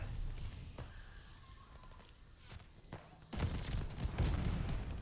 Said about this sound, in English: He's using an auto shotgun? Oh yeah, the revolving one.